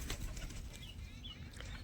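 Pure white Moti pigeons are heard faintly at a distance, with soft wing flutters and a few quiet calls over a low background hum.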